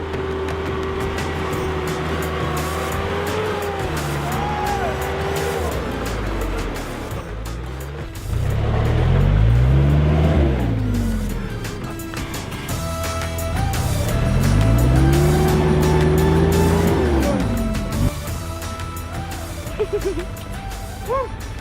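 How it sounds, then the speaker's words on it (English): A truck engine labours up a steep hill road on Koro Island, Fiji, after Cyclone Winston. It drones steadily, then revs hard in two loud, rising surges with a strained, wavering pitch, close by. "It's a hill obviously climbing nice and up and high before you head down towards Vatalele, and our truck is struggling."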